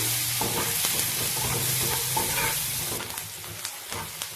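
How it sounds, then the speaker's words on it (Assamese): Steady sizzle of onions and turmeric frying in a pan with repeated scraping clicks of a spatula stirring, close by, no voices. "এইখিনি সুন্দৰকৈ মই ভাজি ল'ম।"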